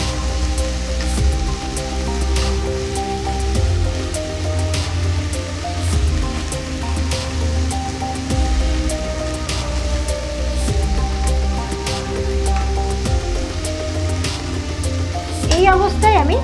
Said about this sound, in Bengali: আদা, পেঁয়াজ, রসুনটা দিয়ে ভালো করে আমি একটু কষিয়ে নেব